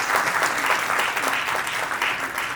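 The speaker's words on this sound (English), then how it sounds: "I think that he deserves really a round of applause" Short, dense round of crowd applause at an Indian American business council and consulate community event, steady and fairly loud for a couple of seconds.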